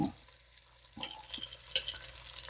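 Short ribs sear in oil in a pan, a quiet close sizzle with a couple of soft stirring knocks, rising slightly toward the end.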